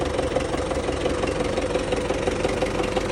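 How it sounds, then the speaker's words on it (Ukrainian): A 2016 MTZ-82.1 tractor engine runs at a steady idle, a close, even diesel chug with a dense rattling texture and no breaks. "Моторчик гарно працює, не димить, не сапонить, тиск тримає"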